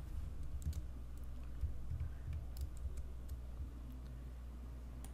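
Mouse and keyboard clicks while drawing with the Pen and Curvature tools in Adobe Illustrator 2018, several sharp light clicks scattered across the clip over a low hum, with no talking.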